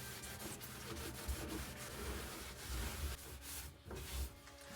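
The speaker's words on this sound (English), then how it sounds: "you want to use something like a cloth that's not going to shred if it rubs over" Cloth rubbing back and forth over welds on a rusty vehicle floor during repair, a steady close scuffing and wiping texture with no talk.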